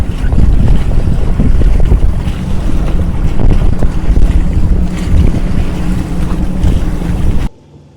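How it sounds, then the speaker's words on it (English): Sailboat running under engine power on a very windy night near James Island, loud buffeting wind noise and rushing water over a low engine drone, cutting off abruptly at the end. "We are back to motoring again, over to James."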